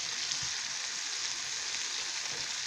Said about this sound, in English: I'll flip in these nice pieces. Let the oil get to all of them by tilting the pan.